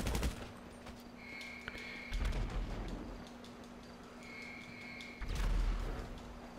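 Bursts of automatic gunfire in GTA V Online, rapid rattling volleys in two or three clusters with sharp cracks and echoing booms between them.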